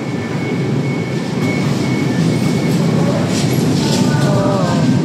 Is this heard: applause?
no